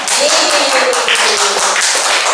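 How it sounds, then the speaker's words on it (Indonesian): A room full of people at a school culture-training session bursts into brisk, dense clapping that holds steady and loud for a couple of seconds, with a voice faintly underneath. "tepuk tangan untuk kita semuanya"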